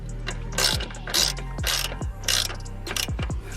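A ratchet wrench clicks rapidly while loosening a 17 mm top bolt on a G35 Coupe's rear coilover, close and loud, in several short bursts of ratcheting strokes.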